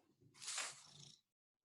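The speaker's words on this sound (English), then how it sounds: "We're such a good kitty." Pet cat Tinks gives a single close, breathy vocal burst lasting about a second, loud at first and fading before it cuts off to silence.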